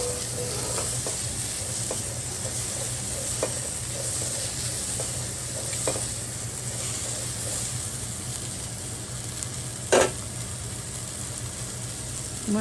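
Onions frying in a pan, for masala dosa, give off a steady hiss and sizzle with soft scrapes of stirring and one sharp clatter near the end, with no talking.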